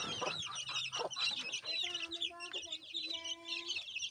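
Two native chicks, one cockerel and one hen, cheep in a small room with repeated high chirps and short trills, close and clear, alongside soft rustling.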